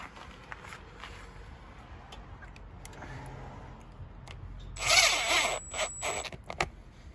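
A power tool drives studs into the lugs of a Maxxis UTV tire on a 2019+ Polaris Ranger XP1000, with a short, louder whirring burst near the end amid faint clicks and handling noises.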